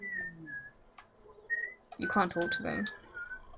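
A Sims character in The Sims on PS2 whistles a short, repetitive tune in clear bright phrases, followed by people talking over the end of the melody.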